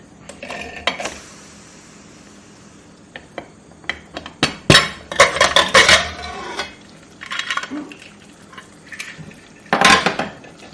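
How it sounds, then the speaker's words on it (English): A pressure cooker lid is opened on a pot of Persian ghormeh sabzi stew, with loud metallic clanks, clinks and scrapes in clustered bursts separated by quiet pauses, close and without talk. "Okay, let's open this lid."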